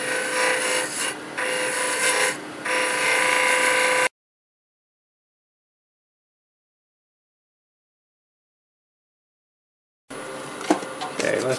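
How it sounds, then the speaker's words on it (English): Quarter-inch bowl gouge cutting a small wooden brick-pattern vase spinning on a lathe, a steady close rasping scrape in bursts for about four seconds, then silence, then the scraping resumes briefly. "Do a little shaping here, right in the middle with this quarter inch bowl gouge."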